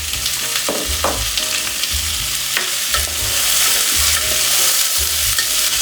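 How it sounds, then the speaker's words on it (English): Radish stir-frying in a hot pan for Korean borscht, a loud continuous sizzle broken by repeated scraping and tossing strokes of a utensil at an uneven rhythm. "stir fry it. For around a minute, we're gonna add the radish."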